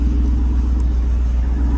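Dodge Scat Pack car engine idling, a loud steady low rumble holding level throughout with no rise in revs, close by and alone with no voices.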